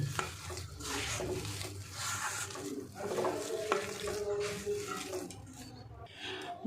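Mashed sweet potato is kneaded by hand with powder into a sticky jalebi dough, a continuous close squelching and smearing with soft wet slaps.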